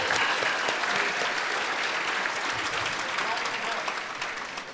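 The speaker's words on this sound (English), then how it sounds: "let's give him a round of applause." Audience at a State of the City event gives a round of applause, steady dense clapping throughout that tapers slightly at the end.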